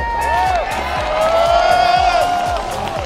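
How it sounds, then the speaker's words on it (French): Spectators at a mountain race finish line cheer, whoop and clap for an exhausted musher arriving, a loud crowd roar with a rhythmic low thumping and a sustained tone over it. "Applaudissements."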